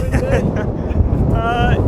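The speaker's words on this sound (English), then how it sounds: "It's a bit windy." Steady wind buffeting the microphone at Club La Santa during Ironman training, a low continuous rumble throughout, with people talking over it.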